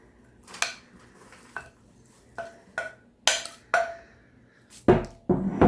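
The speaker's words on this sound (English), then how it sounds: "Then it's as simple as taking the baking pan and dumping the mixture into it." Shortbread mixture for maple butter tart squares is tipped into a baking pan, heard as a series of about eight sharp metallic clanks and scrapes spaced irregularly, close and alone against quiet background.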